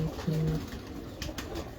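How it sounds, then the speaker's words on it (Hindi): A breeder pigeon gives a soft low coo, brief and close, with faint background noise. "ये ब्रीडर कबूतर है जी"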